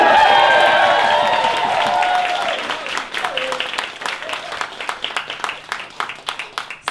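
An audience at Bar Wotever bursts into loud cheering and applause that fades after a couple of seconds into scattered, separate handclaps.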